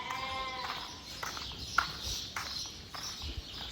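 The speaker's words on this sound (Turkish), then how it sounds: "Bunlar dişi kuzularımız." Female lambs bleating on a farm: a near, wavering bleat opens the clip, followed by scattered shuffling and light knocks from the flock.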